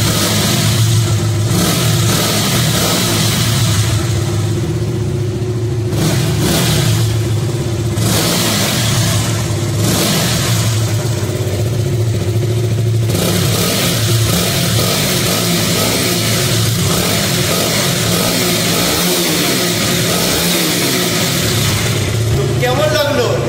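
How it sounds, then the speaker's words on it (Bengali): A motorcycle with no silencer fitted is throttled up repeatedly, its loud raw exhaust revving and falling close by for the whole stretch, with a voice talking over it at times. "এক্সস্ট সাউন্ডটা শোনাচ্ছি তোমাদেরকে"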